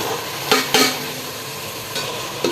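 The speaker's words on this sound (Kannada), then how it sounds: "ಸೊ ಈಗ ತರಕಾರಿ ಏನು ಕಟ್ ಮಾಡ್ಕೊಂಡಿರ್ತೀವಲ್ಲ ಅದಷ್ಟು ಹಾಕಬೇಕೀಗ" Chopped vegetables frying in a pan for vegetable pulao, a close, steady sizzle broken by a few sharp scrapes and clinks of a spoon against the pan.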